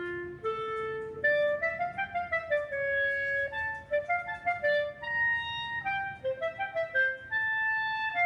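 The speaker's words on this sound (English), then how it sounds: "A clarinet is one of the reed instruments." A clarinet plays a clear, lilting melody of sustained and quick notes, solo and fairly soft with no other instruments.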